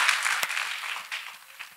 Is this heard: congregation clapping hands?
yes